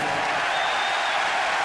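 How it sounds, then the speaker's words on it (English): A tennis crowd at a 2006 Madrid semifinal cheers a double fault with a dense, steady wash of cheering and applause that stays loud and unbroken throughout. "that is very unfortunate that they would cheer that double fault"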